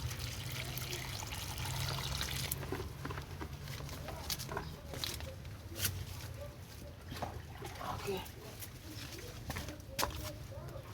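Water splashes and trickles onto a wilted honey-variety rose apple plant in a garden, a soft uneven pouring heard faintly alongside bird calls, dove coos and outdoor background noise.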